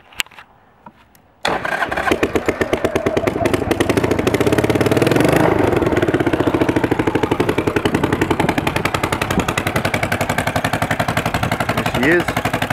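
A 2005 Buell Blast motorcycle with a modified exhaust starts up and settles into a loud, close, rapid lumpy idle that pulses steadily for the rest of the clip.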